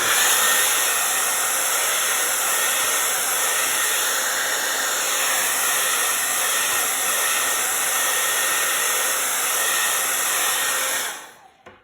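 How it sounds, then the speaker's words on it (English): A hair dryer blows steadily at close range with a loud, continuous whooshing roar, then switches off abruptly near the end. "I'm gonna hit it with my blow dryer."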